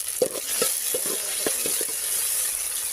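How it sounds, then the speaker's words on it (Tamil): Tomatoes sizzle in hot oil for a Tamil fish curry, with a steady frying hiss and several soft clinks and scrapes as a spoon stirs the pan. "இதுவும் நல்லா வதங்கணும் எண்ணெய் பிரிஞ்சு வர வரைக்கும்"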